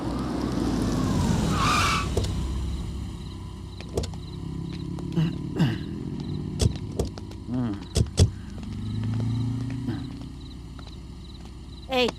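Police vehicle rolling to a halt on a road at night, low engine and tyre rumble easing down under scattered clicks and knocks, with a sharp screech early on.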